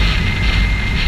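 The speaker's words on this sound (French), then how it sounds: "on m'a prêté ce joli petit bijou à 2 roues, un petit CBF 600" A Honda CBF 600 motorcycle engine under way, a steady broadband drone blended with strong wind rush, loud and continuous throughout with no talk.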